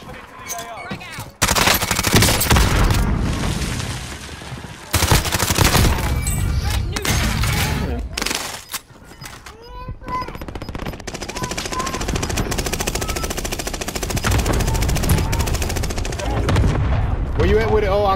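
Dense, loud video game gunfire in a match on the Caldera map, with rapid automatic bursts and overlapping shots over a continuous battle din, while players talk intermittently underneath.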